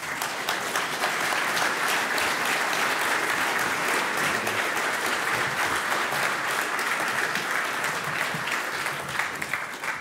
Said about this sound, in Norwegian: så skal de fire få en applaus